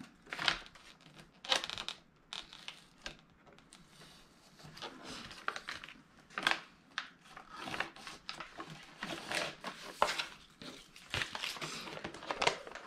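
Excess paper is trimmed with a cutter while a paper storage bin is being made, producing a string of close, quiet scraping and crinkling strokes with brief rustles in between.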